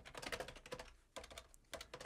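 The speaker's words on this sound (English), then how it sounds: "I'm going to type in another console logging line to say this is on the command line" Fast typing on a computer keyboard while entering a line of code at a command line: quick bursts of close keystrokes with two short pauses, no voice.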